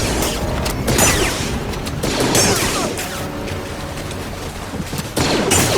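Stormtroopers' blaster fire in the Star Wars Jedi: Fallen Order video game, a loud, dense volley of rapid shots and impacts that keeps going steadily throughout, with sharp cracks standing out every few seconds.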